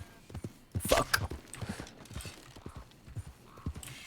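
Horse hooves galloping in a video game, a quick run of rhythmic clip-clop beats, fairly quiet, with a few louder sharp effect sounds mixed in.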